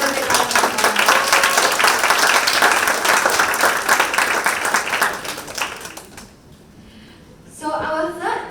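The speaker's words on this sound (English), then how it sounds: "We all give them a big round of applause" An audience at a startup demo day event applauds loudly for about six seconds before the clapping fades away, and then a voice begins speaking.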